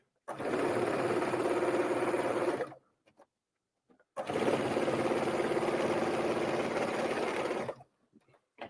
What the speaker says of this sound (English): I'm just going to run a straight stitch down the middle of this rope onto the fabric.